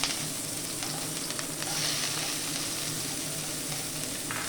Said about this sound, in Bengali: এরপর এটার মধ্যে আমি কুচি কুচি করে রাখা ক্যাপসিকামগুলো দিয়ে দেবো।